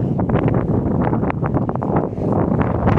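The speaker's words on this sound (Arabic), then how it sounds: "شوف شوف على ريح" Strong wind blows steadily on a road toward Ouarzazate, Morocco, a dense continuous roar buffeting the microphone for the whole stretch, loud and unbroken, with no voices.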